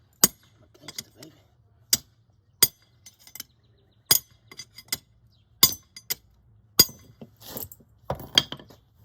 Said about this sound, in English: All I use was a little chisel and a hammer